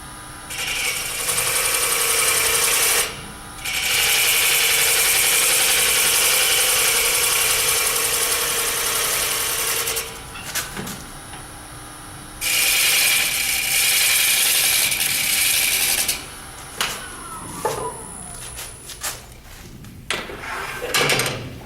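An engine revs up high in long sustained bursts, dropping back to idle between them, with rattling mechanical noises in the pauses.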